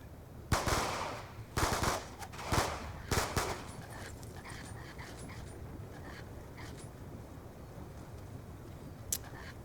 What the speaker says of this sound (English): Swiftor Says fire 5 bullets.